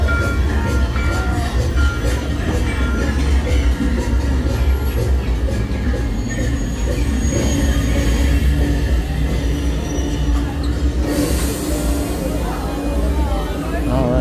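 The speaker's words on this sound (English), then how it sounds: "Alright, here comes our train now." A theme park ride train rolls into the station at Hollywood Studios, a loud continuous rumble with squealing wheels and rattling, while people talk nearby.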